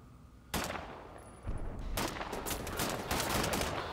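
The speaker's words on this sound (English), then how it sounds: "I want to go back to getting kills with my assault rifle" Assault rifle fire rings out in the Wolfenstein: The New Order video game, starting with a single shot, then erupting in repeated, sustained bursts of rapid gunfire that grow denser toward the end at moderate volume.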